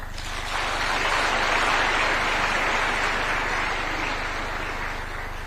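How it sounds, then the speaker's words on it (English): An audience at an official presidential event claps after a speech, a steady burst of crowd applause that swells and then holds with no one speaking over it. "One more round of applause for the chair, Dr. Father Wamugonda."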